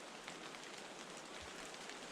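Steady rain falls on the way down to a river, a continuous broadband hiss of drops with no voices, uniform in loudness throughout.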